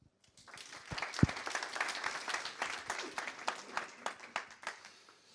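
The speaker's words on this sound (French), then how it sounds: "On peut les applaudir." An audience at a presentation applauds the speakers as they take the stage. Clapping starts sparse and builds into a lively round of many hands, with uneven peaks as it carries on.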